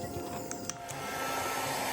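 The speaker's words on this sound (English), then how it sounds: "And now I'm going to use the hairdryer in low speed. Just blowing a pattern." Hair dryer on low speed blowing across poured epoxy resin tinted with gold mica powder, a steady close airy whoosh running continuously with faint clicks.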